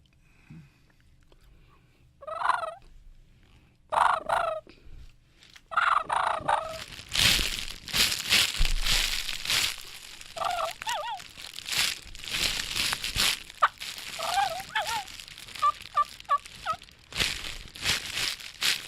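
A world champion turkey caller imitates a calm turkey hen on a call: sequences of nasal yelps and clucks, then rustling and crinkling under bursts of calling, close and fairly loud, with speech mixed in.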